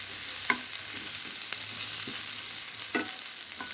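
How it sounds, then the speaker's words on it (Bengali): Pointed gourd and pumpkin frying with whole onions in a pan, a steady soft sizzle broken by a few sharp stirring scrapes, close and moderately quiet with no talking. "এই যে ভাজা হয়ে যাচ্ছে"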